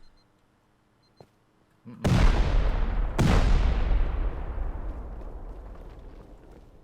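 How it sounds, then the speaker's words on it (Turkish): In the video game Rust, two C4 charges detonate about a second apart. Each sharp, heavy blast gives way to a long, fading rumble after a near-silent start. "Şuraya 2 C4 atayım. Oradan ne çıkarsa artık gireriz."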